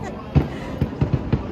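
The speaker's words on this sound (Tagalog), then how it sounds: "Fireworks! Look, Fireworks Caleb!" Several deep fireworks booms burst in an uneven series over Burnham Park in Baguio City during a tree-lighting event, heard from a distance beneath people talking.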